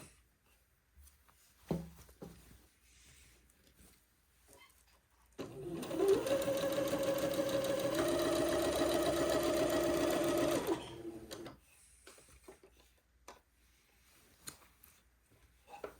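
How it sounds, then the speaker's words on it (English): A sewing machine runs a basting thread along a smocked day gown, buzzing steadily for about five seconds in a quiet room, with faint handling noises before and after. "I'll sew the next basting thread 1/4 of an inch away from the first one"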